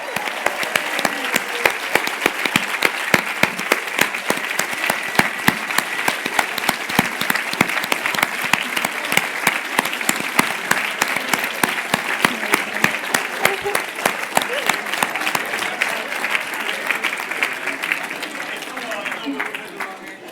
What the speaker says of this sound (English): give Mark a loud round of applause.